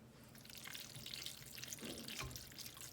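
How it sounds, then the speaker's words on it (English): Wet fettuccine tossed in a pan with lamb ragu gives a brief soft sizzling, watery hiss, faint and close, with no one speaking. "you can hear if your pasta is wet enough, because it'll actually zhush in the pan"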